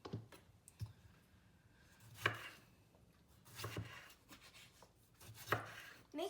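A child cutting salad ingredients with a knife, producing separate sharp chops and clicks against a board at an uneven pace, with quieter scraping between the louder strikes.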